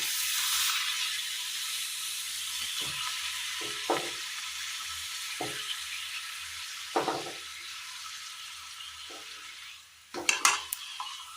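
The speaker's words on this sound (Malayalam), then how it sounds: "എണ്ണ ചൂടായി വരുമ്പോൾ ഇതിലേക്ക് പപ്പടം ഇട്ട് കൊടുക്കുക" Pappadam dropped into hot oil in a pan for a Kerala curry, a steady bright sizzle with a few soft clinks and scrapes of a utensil, growing briefly louder near the end.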